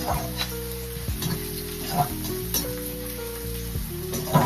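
Chopped large onion sautéing in a pan in a home kitchen, giving a steady, moderate sizzle under tonal background music, with no talking.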